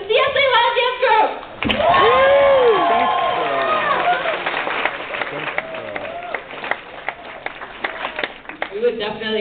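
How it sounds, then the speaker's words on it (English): Audience applause and cheers for the CSA Live Dance Group, opening performers at a Chinese New Year event, loud and sustained with claps and whoops, background music and voices over a crowded hall. "let's give it a round of applause for our first performers of the night, the CSA Live Dance Group"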